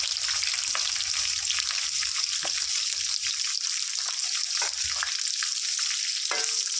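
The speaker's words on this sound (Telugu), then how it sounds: "వీటిని చక్కగా ఫ్రై చేద్దాం ఫ్రెండ్స్" Two medium onions and about ten green chillies frying in hot oil for gongura chicken curry, a loud continuous close sizzle with a few scraping stirs.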